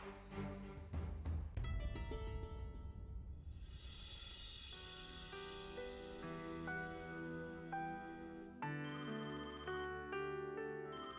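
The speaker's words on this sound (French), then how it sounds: "tu peux répondre au téléphone, s'il te plaît?" A telephone ringing indoors with a melodic electronic ringtone, repeating tonal phrases over several seconds, at moderate level, heard alone without talk.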